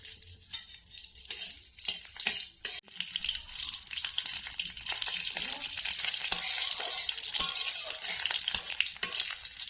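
Dried and green chillies sizzle in hot white oil for a Bengali pui mituli chachari. The frying swells from quiet crackles into a dense, continuous hiss, with occasional clinks of a spoon against the pan.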